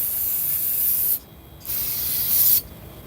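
Two bursts of aerosol spray hiss loudly and close, separated by a short pause, with a continuous rushing hiss throughout.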